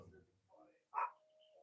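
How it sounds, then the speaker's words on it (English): A dog gives one short, sharp bark indoors at a home crochet session, set against soft background voices and household noise. "My dogs are barking."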